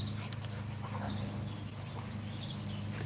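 Dogs of the rogue wolves breed, a newly started line, make sounds against a steady low hum and constant background rumble, with faint higher yelps or whines scattered throughout.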